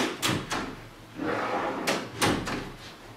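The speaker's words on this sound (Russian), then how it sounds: "Нажимаем, и он закрывается. И вот три ящика." Three sliding drawers in a wardrobe with hinged doors are pushed shut one after another, each closing with a soft thud and slide, loud and close, with no voices.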